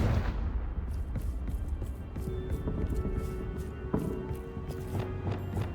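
Confringo fire spell being cast in the video game Hogwarts Legacy: repeated loud, crackling explosive bursts over a dense, rumbling game soundscape, with several sharp impacts spread across the stretch.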